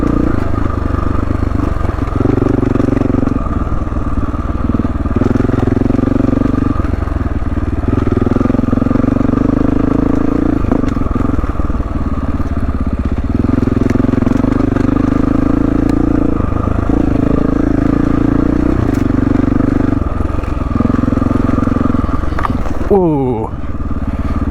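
Motorcycle lugging in low gear through deep sand on a Moab desert trail, a steady close engine drone with shifting load and clatter throughout, rising briefly near the end.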